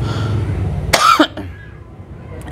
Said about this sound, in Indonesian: batuk sedikit ya.